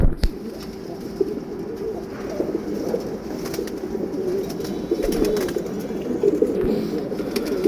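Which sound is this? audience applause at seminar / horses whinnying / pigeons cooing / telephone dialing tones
pigeons cooing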